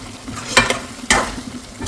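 Two quick scraping strokes of a spoon through chicken in a pan, over a faint sizzle of frying.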